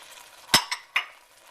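Ladle or spoon stirring beans and spinach into a pot of ribollita soup, giving three short scraping clinks close by against a faint background sizzle, with no talking.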